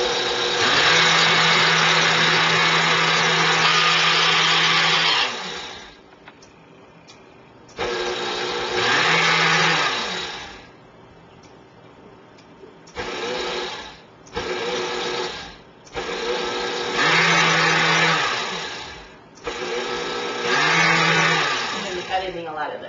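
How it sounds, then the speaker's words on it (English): A KitchenAid blender grinds oats in loud whirring bursts, running for several seconds, pausing, then restarting in shorter pulses and longer runs, close and alone. "So the first thing we're going to do is blend these oats."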